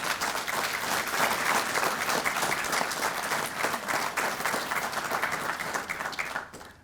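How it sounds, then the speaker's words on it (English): An audience at a police department promotion and swearing-in ceremony applauds promoted sergeants with sustained, dense clapping that carries on steadily for several seconds before fading at the close. "give our sergeants a round of applause."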